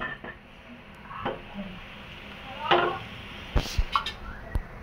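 Potatoes and onions being stirred in a pan for a Bengali small fish curry: a spoon scrapes and clinks against the metal several times over a soft, low sizzle.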